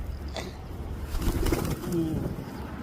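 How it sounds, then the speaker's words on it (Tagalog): Pigeons coo in a low, soft, repeated murmur amid steady outdoor background noise, with a brief higher call near the start and a few faint voices in the distance. "Daming kalapati eh."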